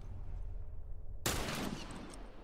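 A single sharp sniper rifle shot in The Last of Us Factions multiplayer game bursts out midway against a low rumbling background, loud and close, followed by a dense ringing tail of noise.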